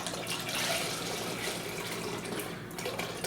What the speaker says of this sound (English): We got the beef broth. We're going to put that in a pot.